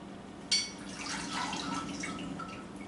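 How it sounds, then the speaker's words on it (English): Rennet mixed with water being poured into goat's milk for cheddar cheese, a sharp splash onset followed by a steady close trickle and drip for a couple of seconds. "So now we are going to add the rennet mixed with water."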